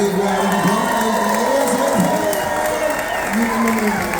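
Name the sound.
audience applause and cheering on cruise ship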